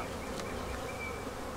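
Honey bees buzz inside a hive during an inspection, a soft, steady, dense hum that holds evenly throughout, fairly quiet, with no voices.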